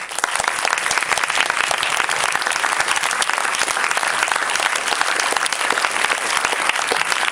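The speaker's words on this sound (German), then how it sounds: "Euch beiden gebührt auch ein riesen Applaus" A cinema audience at a live guest appearance by Dr. Jane Goodall at a CINEWORLD applauds the film's producers with loud, dense, sustained clapping that runs unbroken for several seconds, with no voices over it.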